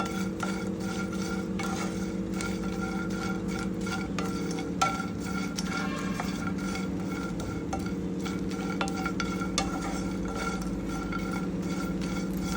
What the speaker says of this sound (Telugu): ఇలా ఒక ఐదు నిమిషాలు వేయించుకుంటే సరిపోతుంది